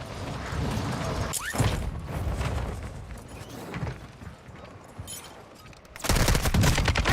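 Video game gunfire with sharp shots and rattling mechanical clatter, scattered across the stretch, then a louder dense burst near the end.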